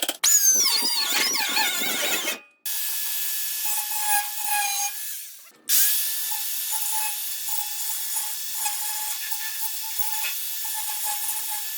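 A pneumatic grinder with a Benchmark abrasives disc grinds metal in loud, hissing, whining bursts. The tool is briefly cut twice and then restarts with a sustained high squeal.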